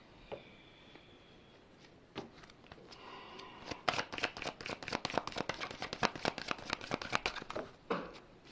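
A deck of tarot cards is shuffled up close in a rapid series of crisp flicks and slaps lasting several seconds, after a few soft handling sounds; quiet overall.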